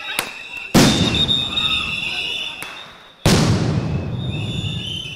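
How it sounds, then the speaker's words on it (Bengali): Sound grenades exploding during a police crackdown on a student protest at Dhaka University campus: two sharp, loud blasts about two and a half seconds apart, each followed by a long ringing, echoing decay over a background of crowd noise. "বেশ কয়েকটি সাউন্ড গ্রেনেড বিস্ফোরণেরও শব্দ শোনা যায়।"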